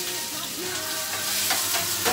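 Chopped onions sautéing in hot oil in a pan, giving a steady close sizzle with faint stirring scrapes, no voices.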